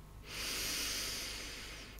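A single slow, steady inhalation through the nose, close and soft, rising into a long airy hiss that lasts under two seconds in a quiet relaxation setting.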